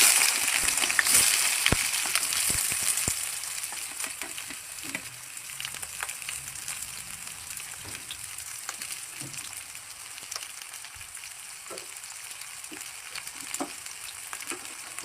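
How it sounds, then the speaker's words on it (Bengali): Dried red chilies, bay leaves, whole cumin and onions sizzle in hot tempering oil, loud and crackling at first, then settling into a steady fry with scattered spoon clicks and no talking. "এখন শুকনো লঙ্কা ফোড়নে দিয়ে দেবো, তেজপাতা দিয়ে দেবো, গোটা জিরে দিয়ে দেবো, পেঁয়াজগুলো দিয়ে দেবো"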